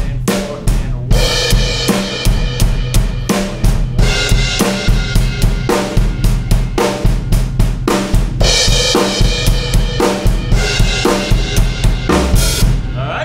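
A full drum kit plays a steady, driving groove with repeated crash cymbal hits marking the start of each bar, loud and close.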